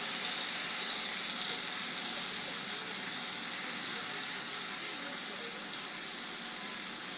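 About one and a half spoons of ginger garlic paste sizzling in hot oil for palak paneer, a continuous, even hiss that fills the whole clip with no talking.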